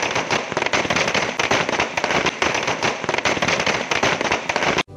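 Firecrackers burst in a dense, continuous crackling barrage as women celebrate a new law for women's safety, loud and close with no break, and no talk over it.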